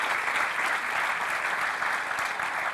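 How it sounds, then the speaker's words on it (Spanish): A church congregation breaks into steady applause during a sermon, a dense, even wash of many hands clapping for a few seconds without speech. "Démosle un aplauso al Señor por esa muerte bendita de Cristo en la cruz."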